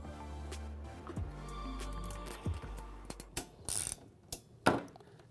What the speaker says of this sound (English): Fixing the cover with these two screws.